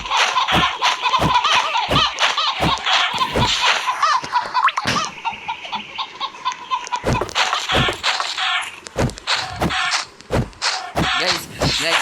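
Video-game chicken noises: clucking calls and hard thudding hits from a survival-style game, repeating loudly throughout while a player keeps talking.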